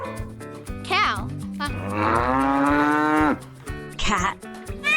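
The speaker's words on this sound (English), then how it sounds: "Cow." A cow moos loudly and close up, with one long drawn-out low call in the middle and shorter calls around it, set against a light musical background in a children's animal sounds lesson.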